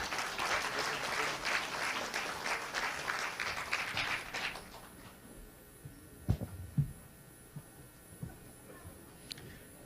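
A hall audience at a Liberty Korea Party leadership debate welcomes the candidates with sustained clapping for about four seconds. It then dies away into a quiet room broken by a few scattered thumps and knocks.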